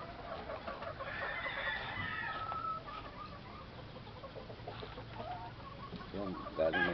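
A hen clucks close by among other chickens from Cebu in a farmyard, giving a steady run of soft clucks and a few louder calls near the end, with faint background noise.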